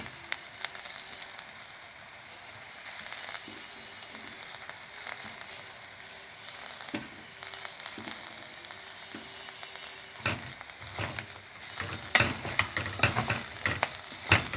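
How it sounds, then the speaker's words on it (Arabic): Orzo (lisan al-asfour) and mixed vegetables sizzle in a pan, with a soft continuous fry and scattered utensil scrapes that grow busier and louder toward the end as the mixture is stirred. "نقلب فيه شويه لحد ما الخضار كله يتمزج في بعض في لسان العصفور"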